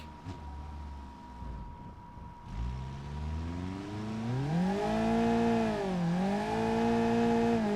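A car in drift mode in BeamNG.drive does a burnout, starting from a low idle and rising into a loud, climbing engine whine that sweeps up, dips, then holds at high revs.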